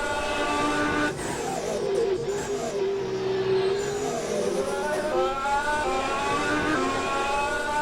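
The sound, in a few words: Dork racing car accelerating with energy recovery system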